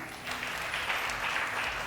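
A studio audience at a televised Ramadan debate show claps in a short, even burst of applause, fairly close and unbroken, with no talking over it.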